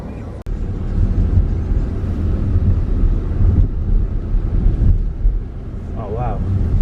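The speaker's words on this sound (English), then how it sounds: "It's extremely windy outside" Strong wind buffets a microphone outdoors in a national park, a loud continuous roar with gusty swells and low rumbling, and a voice speaking briefly over it near the end.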